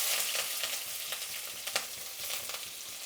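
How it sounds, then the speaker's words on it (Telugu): Onion and curry leaves fry in hot oil in which mustard seeds have already popped. A steady, loud sizzle runs throughout with scattered sharp crackles and spits, and no voices. "ఎర్రగడ్డ, కరివేపాకు వేసుకుందాము."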